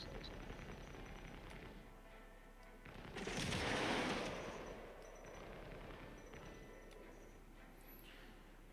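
Missiles fire during a boss fight in a video game, a dense burst of launch blasts and rumble swelling in the middle and then fading back under constant game noise.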